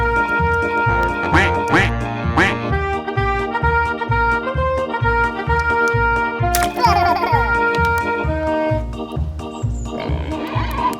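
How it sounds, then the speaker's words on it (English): Toy duck quacking in repeated bright squeaky bursts over a steady bouncy electronic beat, with chiming toy melody notes layered on top; loud and close, no talking. "Little duck."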